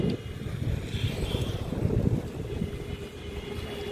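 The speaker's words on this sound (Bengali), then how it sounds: "বিশাল বড় একটা জাহাজ যাচ্ছে দেখুন" Large ship Ocean Glory passing on the river at Diamond Harbour, a low steady engine rumble and water wash mixed with wind buffeting the microphone, continuous with no talk.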